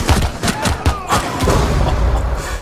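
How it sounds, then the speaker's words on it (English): Gunfire and a grenade blast in the Rainbow Six Siege video game ring out as several sharp bangs and booms in quick succession, with a heavy thumping rumble toward the end. "oh, grenade"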